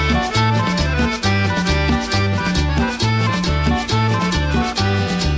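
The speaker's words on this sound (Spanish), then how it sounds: "Y otra vez el acordeón" An accordion plays a lively, reedy melody over a steady bouncing bass rhythm, loud and continuous throughout.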